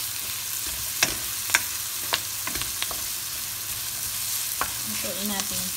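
Young chicken sizzles and fries in a pan while a utensil stirs it, producing a steady crackle with several distinct scraping clacks up close and no one talking.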